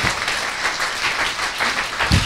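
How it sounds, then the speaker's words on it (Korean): Applause from a studio audience on a Korean political talk show, a dense steady wash of many hands clapping close by, continuing for the whole moment without voices. "박수 한번 치고 넘어가시죠"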